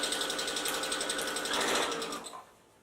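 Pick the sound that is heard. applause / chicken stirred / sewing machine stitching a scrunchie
sewing machine stitching a scrunchie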